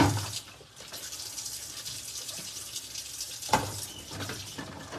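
Tap water runs fairly faintly into a sink during dishwashing at home, a steady soft stream with occasional clinks and splashes.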